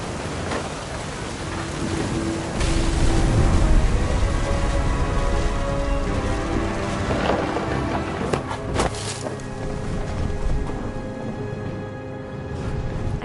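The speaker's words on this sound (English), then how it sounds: "The thunder sounded much too close and full of angry power" A thunderstorm with heavy rain in What Remains of Edith Finch: continuous loud downpour hiss with rumbling low swells and a few sharp crackles near the end.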